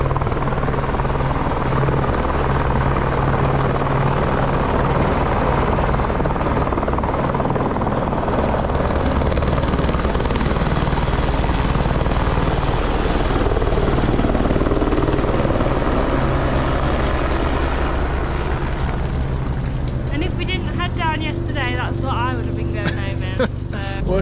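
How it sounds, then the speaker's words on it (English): A helicopter flies over the snowy Everest base camp trek, its rotor throbbing loud and steady throughout, with voices talking faintly beneath near the end. "Here goes the helicopter."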